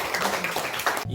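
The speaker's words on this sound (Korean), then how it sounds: "우리 박금아 성도님 오셨는데 우리 환영의 박수 하겠습니다" A church congregation gives a welcoming round of applause during Sunday service, a dense, fairly loud crowd of hands clapping together in a steady wash that ends abruptly.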